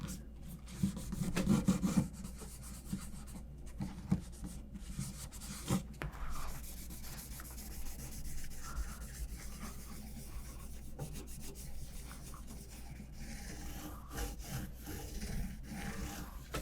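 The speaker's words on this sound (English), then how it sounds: "Take a clean cloth and wipe off any of the excess." A clean cloth rubs excess off the body of a 1958 Guild F-50 acoustic guitar, a soft continuous scrubbing and swishing close up with occasional light knocks, with no talking.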